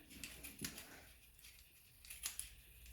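Scissors snip through a cardboard egg carton, producing a series of faint, crisp cuts and crinkles spaced irregularly, very quiet and close with no talk.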